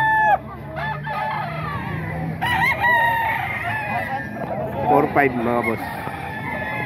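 A Sweater gamecock rooster crows several times in bursts, loud and close, alongside clucking from other fowl, while someone speaks briefly at the start and between crows.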